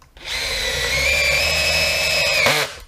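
A DeWalt Flex Torque driver runs a screw in one steady, high whining spin for over two seconds, then winds down abruptly, loud and close with no voices.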